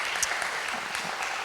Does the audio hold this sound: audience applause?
yes